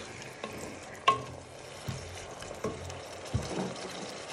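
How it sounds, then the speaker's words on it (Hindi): Tomatoes and spices fry in a pan for chana pulao, giving a soft, steady sizzle with a few spoon scrapes and taps against the pan at intervals. "थोड़ा सा फ्राई करेंगे।"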